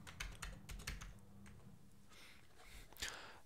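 Fingers tap on a computer keyboard while typing a word in Inkscape, a quick irregular run of soft close clicks that thins out into a few scattered keystrokes.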